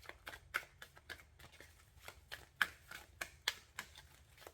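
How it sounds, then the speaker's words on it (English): Tarot cards riffle and snap in uneven bursts of crisp flicks and slaps, close by and fairly quiet, with no talking. "These cards are so hard to shuffle."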